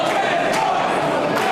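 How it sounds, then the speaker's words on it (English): A wrestling crowd at a live MCW match chants a wrestler's name, a loud, dense roar of many voices filling the arena with rhythmic swells. "The crowd chants for Emmen."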